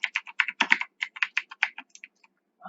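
Brisk typing on a computer keyboard while entering Python code, a quick run of crisp, close key clicks in uneven bursts that slows and trails off into a few final taps.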